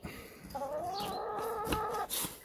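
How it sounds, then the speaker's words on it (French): Hens cluck nearby in a short run of throaty, wavering calls, moderately loud, with no speech. "On entend les poules en arrière-plan."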